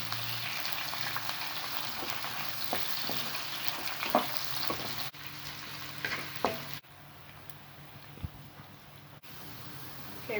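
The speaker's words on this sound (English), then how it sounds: "You can add in your onion, garlic and ginger first. Stir in until the onion is soft." Onion, garlic and ginger fry in oil for chicken curry, a steady close sizzle broken by scraping and clacking from stirring, with the level dropping in steps as the pan quiets.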